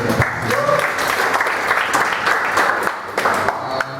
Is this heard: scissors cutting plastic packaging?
no